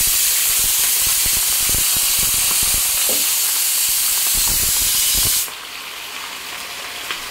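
Chicken and potato pieces hit hot oil in a pan, setting off a loud, hissing sizzle with scattered crackles. It cuts down suddenly to a much quieter, steady fry near the end.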